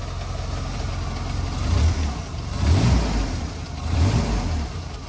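A custom Jeep dune buggy engine idles close by, rumbling low and steady with three throttle blips rising and falling about a second apart.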